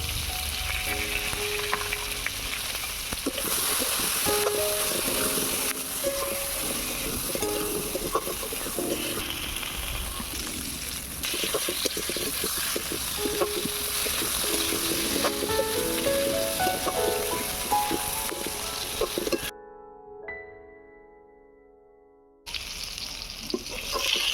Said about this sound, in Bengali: এবারে পটলটা ভেজে নেব এবারে দিয়ে দিচ্ছি নুন অল্প একটু হলুদ গুঁড়ো দিয়ে দেবো